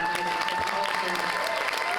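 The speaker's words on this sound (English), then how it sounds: "So please, can you applaud and thank" Rally audience in Iowa applauding Pat, a steady dense wash of clapping at constant loudness throughout the short stretch.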